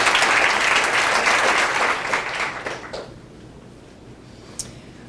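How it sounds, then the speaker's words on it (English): A commencement audience claps in a full, loud round of applause that thins and fades out after about three seconds, leaving a quiet room with a single soft knock near the end. "let's give them a round of applause"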